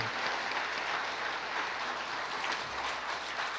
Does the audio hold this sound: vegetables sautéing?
no